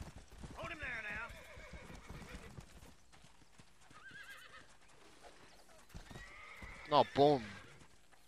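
In the Red Dead Redemption video game, a horse clip-clops and then gives a loud, sharp whinny near the end. Someone talks over the earlier hoofbeats.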